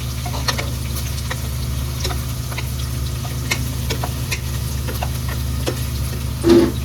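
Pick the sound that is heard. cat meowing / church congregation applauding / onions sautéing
onions sautéing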